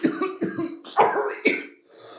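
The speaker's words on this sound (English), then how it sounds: "Ooh, got lightheaded from that cough." A man with allergies coughs four times in quick, harsh bursts close to the mic, followed by a brief quiet breath.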